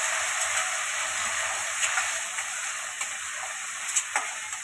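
Onion and tomato fry in hot oil for a gravy, giving a continuous bright sizzle with faint ticks and pops and no voices.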